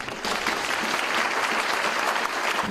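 A crowd at a city council meeting breaks into applause, a steady burst of many hands clapping that holds evenly throughout, with no speech over it.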